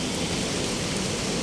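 Heavy rain pouring down outdoors, a loud, dense, unbroken hiss of drops hitting surfaces all around, with no talk.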